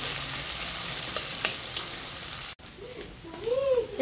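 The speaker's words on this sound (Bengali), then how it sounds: "শুধু পেঁয়াজ আর হচ্ছে কি তেজপাতা দিয়ে ফোড়ন" Onions frying with bay leaf in hot oil in a home kitchen, a steady sizzle with stirring scrapes, then a brief cut and a quieter sizzle as a voice speaks briefly over it.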